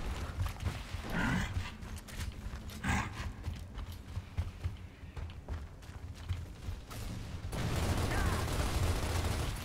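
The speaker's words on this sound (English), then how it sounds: "we're getting shot from top side of the map" Gears of War Ultimate Edition Team Deathmatch multiplayer gunfire, rapid bursts of shots and rattling weapon bursts over continuous game noise, loud and dense with a heavier stretch near the end.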